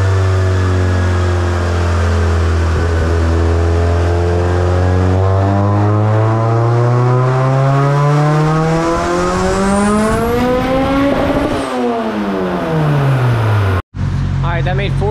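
A tuned Honda EG hatchback with a D2B engine and turbo boost roars through a dyno pull, its loud engine note climbing steadily in pitch for several seconds, dipping briefly, then cutting off abruptly before a short burst of revving.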